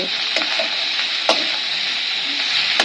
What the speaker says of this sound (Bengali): আবার ভালোভাবে মিশিয়ে নেব